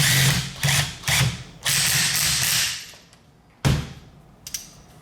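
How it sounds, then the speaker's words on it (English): A ratchet tightens the nut and sleeve on the upper portion of a BC coilover for an E36 drift car, giving loud, close bursts of rapid clicking, several strokes in a row, then a pause and a final short burst. "Then last, you got the nut with the sleeve as well. And you tighten it together."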